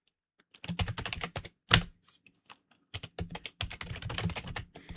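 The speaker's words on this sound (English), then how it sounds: "my mechanical keyboard is bananas. Very loud." A loud mechanical keyboard is typed on in quick bursts of sharp, clacky keystrokes, with one heavier slam and short pauses between the flurries, close up and alone.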